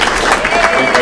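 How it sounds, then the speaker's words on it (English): Audience applause at the Wareham's Got Talent 2018 talent show: a dense, steady wash of clapping from a crowd, loud and close throughout the brief moment. "so let's give them a hand"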